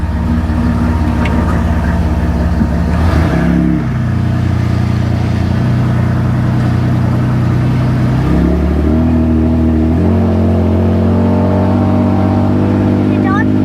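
A Zombugg car drives off and accelerates, its engine droning steadily and loudly with pitch shifts as it revs through gears, heard up close from inside the vehicle.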